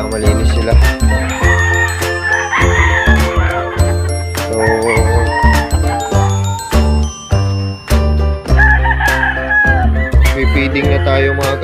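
Hens and a rooster cluck and crow loudly and repeatedly close by, with bright metallic tinkling and clinks mixed in across a busy poultry yard.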